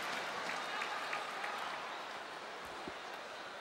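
Spectators at a 2012 women's World Cup table tennis semifinal applaud steadily from the stands, a broad continuous wash of clapping that holds level and fades slightly toward the end.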